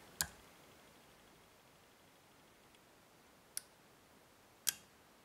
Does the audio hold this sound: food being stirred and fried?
no